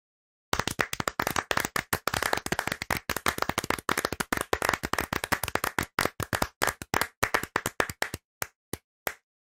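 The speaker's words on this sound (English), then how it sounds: "just to add some stereo width into this as well for this round of applause." Layered hand claps spread across the stereo field, building into a dense round of applause that thins into a few isolated claps at the end.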